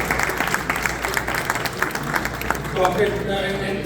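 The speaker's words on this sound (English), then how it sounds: "I would like all of you to also clap and give an appreciation to all the work they've done" A crowd at a flood-relief fundraiser gala claps in scattered, uneven bursts while voices talk over it.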